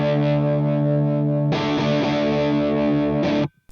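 A sustained distorted electric guitar chord through the overdrive channel of a Joyo Jackman amp rings out, shifting from dark and muffled to bright and biting partway through as the tone knob is swept, then cuts off.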